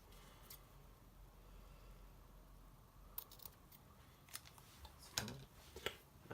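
Scissors snipping satin ribbon at a crafting table, a few quiet crisp cuts in separate clicks near the end, close and faint over a low room hush.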